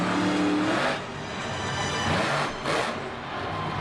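A Monster Jam monster truck engine roars loudly during a freestyle run at an Anaheim arena, with the pitch rising and dipping as the revs swell and fade.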